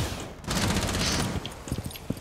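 Gunfire in a Rainbow Six Siege ranked match, a sustained burst of rapid shots followed by a few scattered single cracks, moderately loud.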